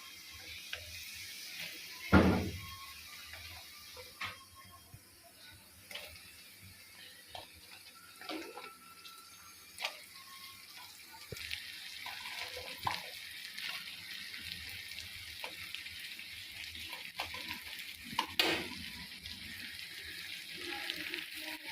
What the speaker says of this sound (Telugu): ఇప్పుడైతే నేను ఏం చేస్తాను అంటే బెండకాయ అయితే వేసేస్తాను